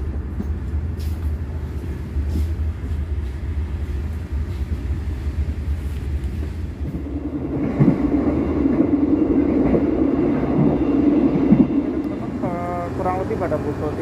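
Interior of the Baturraden Ekspres business-class passenger train in Indonesia while running: a continuous low rumble and rolling drone that grows heavier partway through, with a voice briefly heard near the end.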